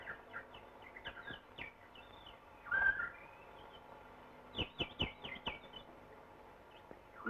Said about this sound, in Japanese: あんなに小鳥がさえずってますわ。